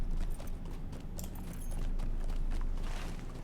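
Horse hooves clip-clopping steadily at a walking pace inside an elven place in LOTRO, a Lord of the Rings online game, close and continuous over low ambient game sound.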